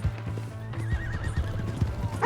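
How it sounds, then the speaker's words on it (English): A horse in Red Dead Redemption 2 gives a loud whinny while hooves clip-clop steadily underneath, with a second neigh rising at the very end over a low rumbling game backdrop. "Hey, that's my horse!"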